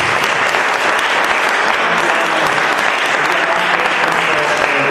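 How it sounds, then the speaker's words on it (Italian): A live audience applauds steadily at an evening public event with local councillors present, dense clapping holding loud and even for the whole stretch. "Proviamo a fare un applauso."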